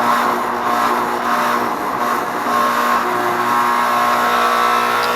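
An upstairs air conditioner condensing unit runs loudly and continuously, its fan and compressor giving a steady whooshing hum with a low tonal drone, close by, with no talking.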